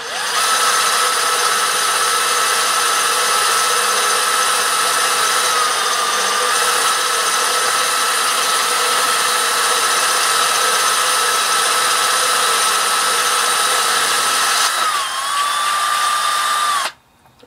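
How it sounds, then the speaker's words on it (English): A loud, steady high-pitched whine of a power drill running continuously through glass under its own weight, with a brief pitch dip before cutting off at the end. "just the sheer weight of the drill can actually just go in there"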